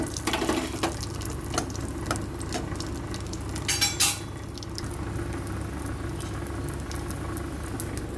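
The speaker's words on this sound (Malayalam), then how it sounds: "കുറച്ച് നെയ്യിട്ട് കൊടുക്കുക. നമ്മുടെ അണ്ടിപ്പരിപ്പ് മുന്തിരി നമുക്ക് വറുത്തെടുക്കണം കേട്ടോ." Cashews and raisins frying in ghee in a small pan, a soft continuous sizzle broken by sharp clinks and scrapes of a spoon stirring against the metal, busiest near the start and middle.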